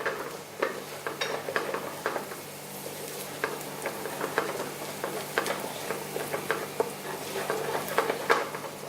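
Onions frying in a pan for curry in an Indian restaurant kitchen: a soft sizzle runs beneath frequent spoon scrapes and metallic taps against the pan, uneven in rhythm and close up, with no voices.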